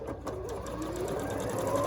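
A sewing machine runs steadily at close range, stitching quilt blocks together with a continuous rapid mechanical whir and chatter throughout.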